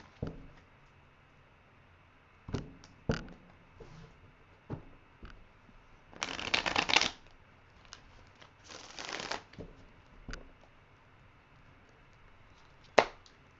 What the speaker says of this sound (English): One more shuffle and rifle.